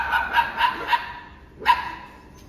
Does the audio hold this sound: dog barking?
yes